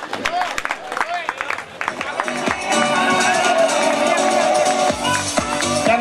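A crowd at an Ahmedabad mela claps and cheers for a prize winner, sustained applause building and holding steady across the stretch, with voices and babble mixed in near the start.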